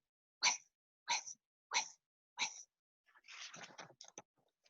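A voice makes four short, breathy hissing bursts in a steady rhythm, then a longer sputtering, clicking run, imitating a rotating lawn sprinkler.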